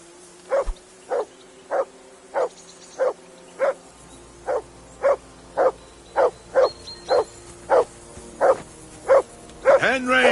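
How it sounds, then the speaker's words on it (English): A dog barks in Kingdom Come: Deliverance II, a long series of evenly spaced, loud single barks about every half second, sounding close and carrying on unbroken to the end. "Whistle at that mutt of yours to stop barking."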